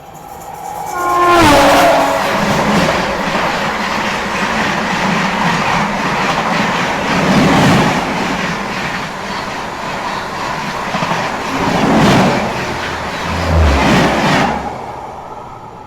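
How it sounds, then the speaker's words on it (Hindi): The North East Express pulls in on Indian rails, a loud, continuous rumble of wagons with clickety-clack over the joints and horn blasts near the start, heard close by without any talk. "ये आ गई आपकी नॉर्थ ईस्ट एक्सप्रेस"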